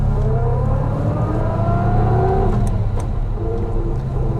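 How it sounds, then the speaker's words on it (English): The V12 engine of a 1972 Jaguar E-Type 2+2 revs smoothly on the move, a deep, steady, close drone that rises and falls in pitch, with road and wind noise underneath. "we have that magnificent V12 engine,"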